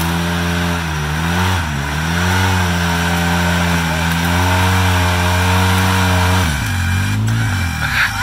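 Vehicle engine revving hard and steadily with wheels spinning in mud for lack of traction, loud and continuous with pitch rising and falling, then dropping near the end.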